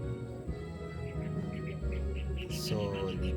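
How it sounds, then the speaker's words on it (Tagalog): Birds chirp outdoors in Angono, Rizal, with short repeated tweets spaced through the clip, fairly faint over a low background hum, with one brighter call near the end. "Tapos ang daming yung mga tunog ng ibon."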